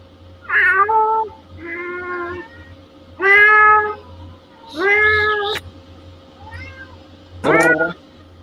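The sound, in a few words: cat meowing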